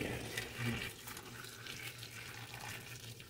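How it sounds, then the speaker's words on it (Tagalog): Heated water pours into a pot while cooking goat trotters in tamarind broth, a steady running splash that is soft and continuous with no talk. "ilagay na natin guys ang pinainit na tubig"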